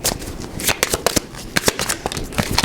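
A tarot deck being shuffled by hand, a run of quick crisp riffling flutters and card slaps in uneven bursts, close to the microphone and without speech.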